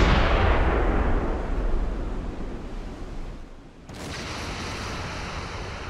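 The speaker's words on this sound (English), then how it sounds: "Notice that it takes time for the sound to travel. Half speed ahead. You see the explosions before you hear them." Deck gun fire and explosions in the submarine game Silent Hunter 5, heard as a loud, continuous rumbling roar of blasts that dips briefly and then resumes as a steady wash of surf-like noise.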